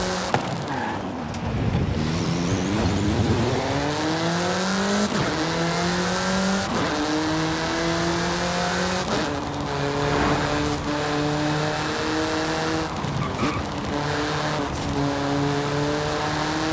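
Car engine in Forza Horizon 5 revving through repeated gear changes, its pitch climbing and dropping in steady shift cycles, with tire noise under a constant loud drone and no voices.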